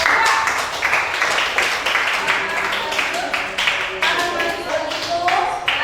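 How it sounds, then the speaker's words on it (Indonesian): A classroom applauding a student group during a teaching practicum: a close, lively round of clapping with uneven rhythm, mixed with voices talking and calling out over it. "Oke, beri tepuk tangan untuk kelompok."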